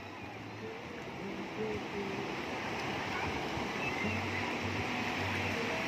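Strong ocean waves surge and roll in a continuous, fairly quiet wash of surf, with a low rumble and gusty wind noise on the microphone, no other sounds standing out.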